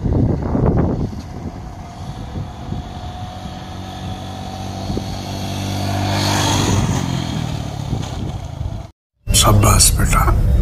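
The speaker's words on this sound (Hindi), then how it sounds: "बाइक से आएगा हाथ छोड़कर" A motorcycle rides past, ridden hands-free, its engine swelling to a loud peak and then fading, followed by a sharp cut and then loud noise near the end.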